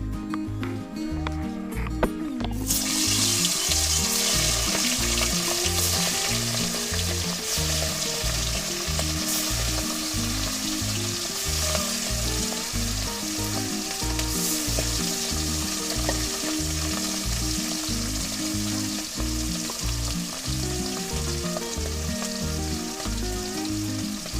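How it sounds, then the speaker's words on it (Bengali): Bata fish frying in hot oil, a loud, dense, continuous sizzle that starts abruptly as the fish goes in and holds steady to the end, with a rhythmic low background pulse underneath. "তেলটা গরম হয়ে গেছে এবার আমি এক এক করে মাছগুলো দিয়ে দেবো"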